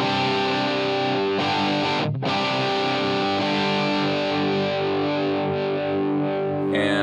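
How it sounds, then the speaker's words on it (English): Electric guitar through a Tube Screamer overdrive in Helix Native software holds a thick, sustained distorted chord, briefly cut off midway, then ringing on loud and steady. "Just go with this Tube Screamer"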